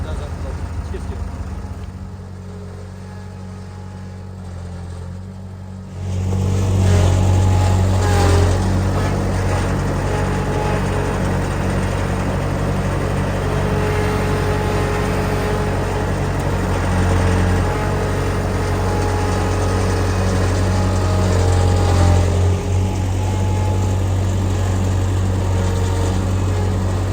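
Skid steer engine running steadily while loading logs onto a live deck in a wood yard, a loud continuous diesel drone that swells and thickens after the first few seconds, close and constant throughout.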